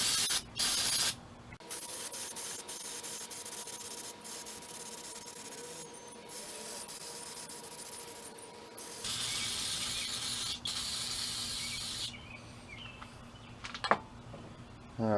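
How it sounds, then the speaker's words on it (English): Aerosol carburetor cleaner sprays in bursts over a Tecumseh engine on a Toro 6.5 machine, with hissing jets broken by pauses and some mechanical rattling, close and fairly quiet, with no talk. "Need some more carburetor spray."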